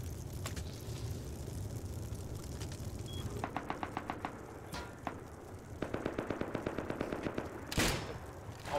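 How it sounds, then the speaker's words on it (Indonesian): Explosive-bullet gunfire in the survival game Rust: rapid bursts of sharp, crackling shots with scattered single cracks, fairly faint and distant against a low background rumble. "Dia pakai bullet eksplosif sial"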